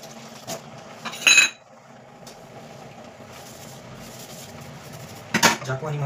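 Clinks of a knife against dishes with some washing noise as a kitchen knife and pots are cleaned, two brief bright clatters standing out over a low steady background, near and moderately loud.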